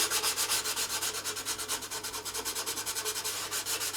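Sandpaper rubbed by hand against a spinning woodturned piece on a lathe, a steady rhythmic rasping swish repeating several times a second, close and continuous with no talk.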